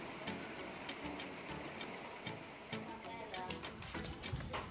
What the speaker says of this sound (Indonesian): Hujan, teman-teman. Kita jeda dulu sebentar,